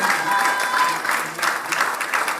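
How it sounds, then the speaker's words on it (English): A crowd at a shooting World Cup ceremony in Bhopal applauds the women's pistol bronze medallist, a brisk burst of many hands clapping in uneven waves that stays loud throughout. "please put your hands together for a round of applause"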